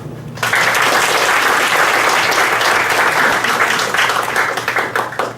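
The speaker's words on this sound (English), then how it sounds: "now let us welcome Director Chris Wood with our warmest applause" After a brief quiet moment, an audience at a civil service training closing ceremony breaks into loud, sustained applause welcoming Director Chris Wood, holding steady for several seconds before easing slightly.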